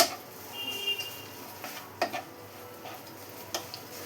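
Horse gram is stirred and dried in a pan over a high flame, giving quiet intermittent scrapes and light clicks of a spoon against the pan, close by, with a faint low sizzle beneath.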